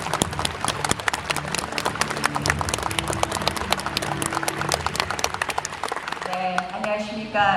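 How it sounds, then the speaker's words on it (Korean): A large audience at the 2024 Next Licorn awards ceremony in Korea gives sustained, dense applause to welcome the Minister of SMEs and Startups; steady rapid clapping fills the room before a voice takes over at the end. "여러분 큰 박수로 맞아주시기 바랍니다"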